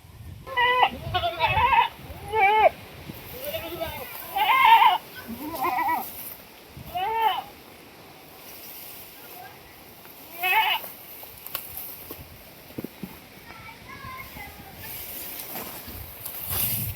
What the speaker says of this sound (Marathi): तर शेळ्यांना वैरण टाकली आता